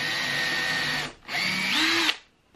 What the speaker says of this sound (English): I'm also going to do a little pre-drill here.